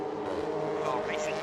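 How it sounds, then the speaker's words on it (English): Touring race cars compete at Hockenheimring during a 16-hour endurance race, with a steady engine roar that rises in pitch as the cars pass. A commentator talks over it throughout. "So these 3 cars now starting to break away from those behind."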